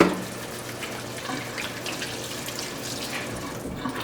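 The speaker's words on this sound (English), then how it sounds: "Wash my hands real quick." A kitchen tap runs steadily as hands are washed at the sink during a cooking demonstration, a continuous close splashing stream with no talk.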